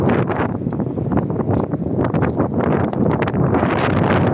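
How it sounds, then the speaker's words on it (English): Loud, continuous wind buffets the microphone with rumbling gusts and rustling, no talking. "It's really windy."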